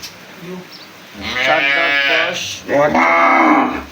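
A Jersey cow, a four-tooth local Jersey, gives two long, loud, nearby moos, the second following a short pause after the first.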